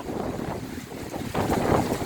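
Dry wind gusting across dry rice paddies in rural Thailand, a loud rushing roar of buffeting against the microphone that swells stronger near the end, with no voices.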